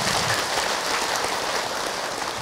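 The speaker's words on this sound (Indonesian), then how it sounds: "Tepuk tangan Bu untuk Ahilman." An audience of women at an Islamic religious lecture claps in a dense, steady wash of applause that fills the whole stretch at an even, fairly loud level, with no voices standing out.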